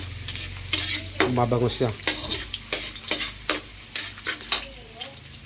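Onions sauté in a hot pan while being prepared for scrambled eggs with tomatoes, with a steady sizzle punctuated by sharp, repeated scrapes and clicks of stirring, and a voice speaks briefly.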